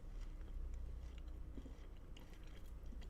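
Someone bites and chews Finnish hazelnut chocolate with a crunchy truffle-like layer, giving a soft, steady crunching close to the mic with no talking.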